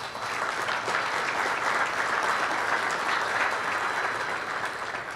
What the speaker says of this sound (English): you're going to be doing a lot of clapping if I don't ask you to hold the applause